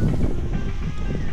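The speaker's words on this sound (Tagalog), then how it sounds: "sobrang lakas ng hangin." Heavy, low rumbling wind in Tanay, Rizal buffets the microphone in a steady roar with no other sound standing out.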